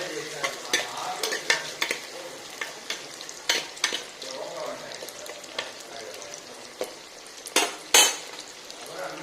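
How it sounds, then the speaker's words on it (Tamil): Green chillies, small onions and tomatoes frying in a clay pot for a Chettinad fish curry, a close, continuous sizzle with frequent stirring scrapes and clinks of a utensil, louder knocks near the end. "தக்காளி நல்லா வதங்கணும்."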